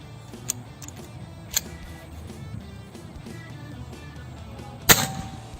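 A hunting air rifle fitted with a custom-made chamber fires one sharp crack near the end, preceded by a couple of faint clicks over a quiet background hiss.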